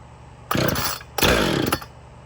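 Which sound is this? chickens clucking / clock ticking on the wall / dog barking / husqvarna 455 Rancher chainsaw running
husqvarna 455 Rancher chainsaw running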